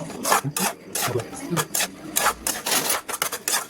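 A spoon scrapes and stirs a leafy patri vegetable curry in a pan, with short, irregular rasping strokes that come close and fairly loud, separated by brief pauses.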